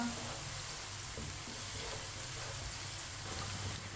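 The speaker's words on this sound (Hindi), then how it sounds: "प्याज को हल्का सा ब्राउन कर लेंगे। 2-3 मिनट के लिए इसे पका लेना।" Onions frying in a pan over medium heat, a steady soft sizzle and crackle running evenly throughout with no talk, fairly quiet and close.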